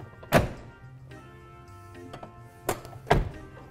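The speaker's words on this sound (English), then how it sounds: "So let's close up the doors here." Heavy thunks of a lifted 2017 GMC Explorer conversion van's doors shutting, one early and two more close together near the end, with faint rattling between.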